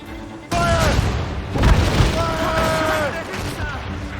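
Naval cannon fire in the Assassin's Creed Rogue video game booms heavily over a continuous roar of sea battle, with several deep blasts and crew shouts and orders layered throughout.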